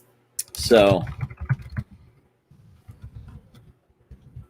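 Fingers type on a computer keyboard in quick, fairly quiet clusters of key clicks following a short spoken word, with pauses between the bursts.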